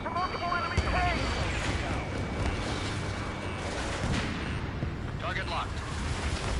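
Artillery and enemy tank fire in a war video game rumble as heavy, low booms and bursts, fairly distant and continuous, mixed with faint radio voices.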